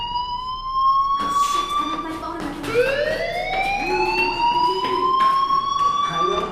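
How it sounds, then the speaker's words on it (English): In the video game Life Is Strange, a fire alarm wails with a rising and falling electronic siren tone, loud and continuous, while people talk over it. "Hey, do you hear that fire alarm?"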